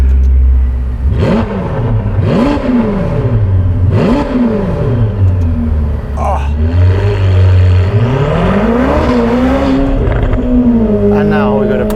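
Novitec-tuned Ferrari F8 Spider with an 802 hp engine, roof down, revving hard in repeated rising and falling surges, then a long climbing pull, a loud close exhaust roar with crackles.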